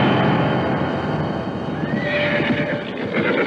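A horse pulling a carriage on a dark night neighs loudly close by over the steady clip-clop of its hooves, with no talking.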